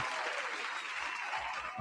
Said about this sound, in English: So big shout out and applause to y'all.